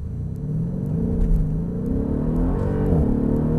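A Mercedes E63 AMG accelerates in sport mode at Mercedes-Benz World, a deep continuous engine rumble with a rising tone, heard from inside the car.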